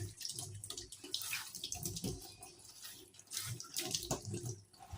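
Tap water running into a sink while steaming small purple sweet potatoes for a steamed sponge cake, a steady near splashing flow with no talk.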